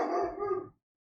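A pet dog barks from inside a house toward the back door, one close, fairly loud bark-and-yip burst lasting under a second, then silence.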